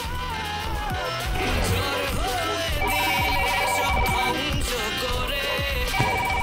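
Phone ringtone playing a repeating electronic melody with a steady beat, loud and continuous throughout, with no voices over it.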